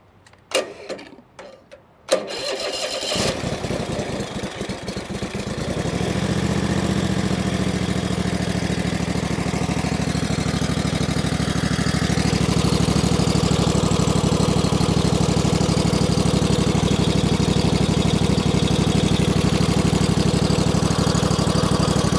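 A Toro SS 5000 zero-turn mower engine cranks with a few sharp clicks and sputters, catches, and settles into a loud, steady, close-up idle that holds evenly to the end.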